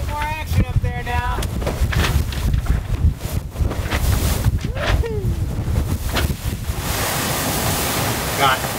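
Wind roars across the microphone as a catamaran beats upwind in 12 to 13 knots of true wind, with waves splashing against the hulls and a voice calling out briefly over the gusts.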